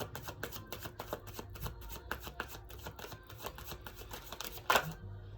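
A deck of playing cards is shuffled close by in a steady run of soft, papery riffles and taps, ending in one sharper, louder flurry as the cards cascade together, then quiet.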